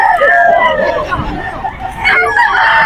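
A bull stag gamecock, a young rooster about 18 months old, crows loudly and close at a gamefowl gathering in Bocaue, Bulacan. People talk in the background throughout.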